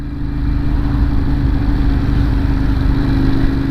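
A Ducati 916 motorcycle engine drones steadily and loudly up close, a constant low rumble with a buzzing mid tone that holds even throughout, with no voices.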